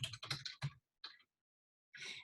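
Bursts of computer keyboard typing, entering a web address into a new browser tab: a quick run of close clacks, a short pause, a brief cluster, then another burst after a gap.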